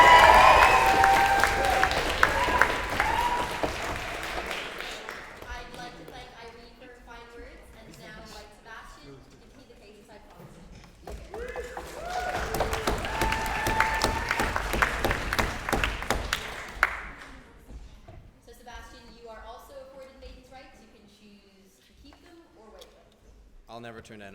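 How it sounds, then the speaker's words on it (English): Applause at a university philosophical society debate, with bursts of crowd clapping rising and fading twice, while a voice speaks between and over the clapping. "I'll never turn down applause."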